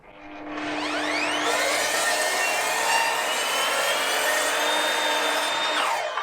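A power saw slicing through an old wooden floor joist: the blade whines up, bites into the timber in one long loud continuous cut, then spins down.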